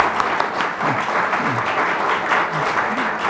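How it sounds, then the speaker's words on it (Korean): Audience applause fills a conference hall at a 2017 Korean architecture forum, dense steady clapping from a large crowd lasting the whole stretch, with faint voices mixed underneath. "큰 박수 부탁드리겠습니다."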